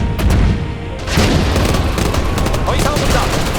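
Loud, dense gunfire and booming cannon shots fill a dramatized Korean war battle, with rapid bursts and heavy blasts rolling together almost without a break.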